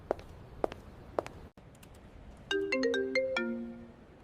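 A few soft taps give way to a phone ringtone, a bright run of rising and falling electronic tones that plays close and clear for about two seconds.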